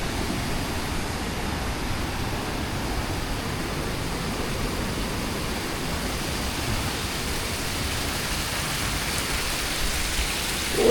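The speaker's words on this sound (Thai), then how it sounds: "น้ำไหลมาทุกแจ่ทุกมุมเลยนะครับ" Water pours steadily down Tad Maleed Song Su waterfall in Laos, a dense, constant rushing roar that fills the scene evenly with no talk over it.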